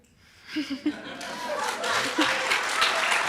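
Audience at a commencement ceremony breaking into applause after a few chuckles, the clapping swelling into a broad, sustained wash that fills the hall.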